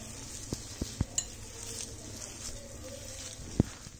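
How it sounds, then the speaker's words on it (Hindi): Spices mixed with red chilli powder and chaat masala for ragda patties, a faint stirring texture with a few soft, sharp taps of a spoon against the bowl, quiet and sparse. "अब इसको हम अच्छे से मिक्स कर लेंगे।"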